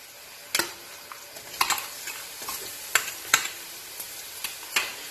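Onions with garlic-ginger paste sizzle softly in a pan while a spoon scrapes and clinks against it in irregular strokes.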